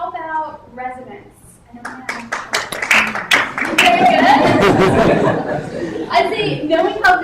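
Residents in the audience at a primary care town hall clap in a thin scatter of short, close claps that swell into denser applause, with chatter, light laughter and a speaking voice mixed over it.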